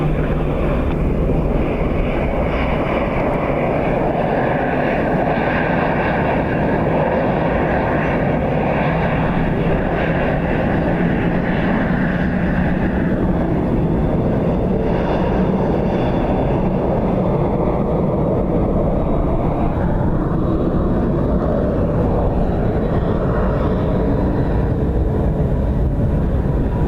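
A plane landing on runway 28 left at Dublin Airport on a windy day, a loud, steady jet engine roar that swells and holds for nearly half a minute with no talk.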